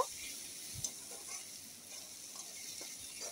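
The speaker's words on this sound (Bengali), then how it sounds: "রসুন কুচিটা পেঁয়াজের সাথে ভালো করে ভেজে নেব" Chopped garlic fries with onion in a pan for an eggplant bhorta, giving a steady broadband sizzle with a few faint scrapes of stirring throughout.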